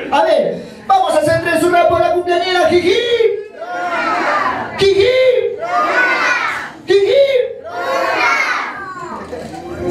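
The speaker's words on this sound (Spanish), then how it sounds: "vamos a hacer tres hurras por la cumpleañera" Party guests at a first birthday celebration shout three loud, rhythmic hurrahs in a row, a mix of adult and children's voices cheering together, with an adult leading between the bursts.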